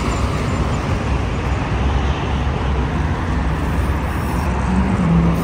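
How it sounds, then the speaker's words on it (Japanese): Heavy traffic rushes steadily along a broad multi-lane city street in Almaty, Kazakhstan, with cars and buses passing close in a dense, continuous roar and no break in the flow. "結構こっちの通りはね、車の通りが激しいですね。"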